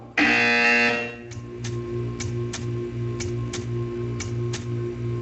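A loud electronic buzzer blares for about a second in the Portal 2 video game, followed by a steady mechanical hum with regular, sharp ticking clicks repeating roughly every half second.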